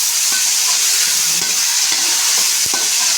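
Tomatoes for semiya upma sizzling loudly in a pan, a steady hiss of frying with a few soft scraping stirs, close and with no voices.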